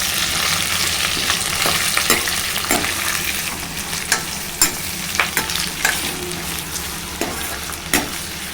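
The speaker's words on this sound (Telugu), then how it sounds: "ఇప్పుడు ఉల్లిగడ్డ, పచ్చిమిర్చి, కరివేపాకు వేసుకోవాలండి. కలుపుకోవాలండి." Onion, green chili and curry leaves fry loudly in a hot pan, making a dense, constant sizzle with regular scraping taps as a spoon stirs them, close and without speech.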